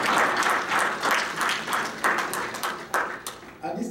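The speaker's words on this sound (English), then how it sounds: "Let's give another round of applause to Ravi for that rousing period." Audience applause for a speaker at an expert panel on the Obama presidency. Steady group clapping swells at first, then thins into scattered individual claps near the end, with a voice briefly audible as it fades.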